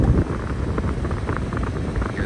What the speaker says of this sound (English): Hear the nice strong fan kicking out.